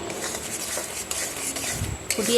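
Homemade sil (wood apple) pickle with jaggery, ground spices added, bubbling in a pan and stirred with a utensil, steady soft sizzle and scraping strokes up close, with a few light clinks of metal near the end.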